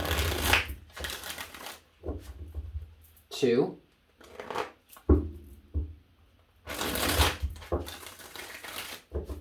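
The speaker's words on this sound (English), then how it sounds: "I'm going to get 3 shuffles here." Several bursts of tarot card shuffling, crisp riffling and ruffling, spaced between stretches of a person talking.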